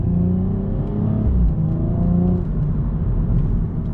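A BMW M135i engine drones loudly while the car is driven, a deep sustained rumble with tonal layers that rise and fall slightly as revs change, continuous throughout with no talking.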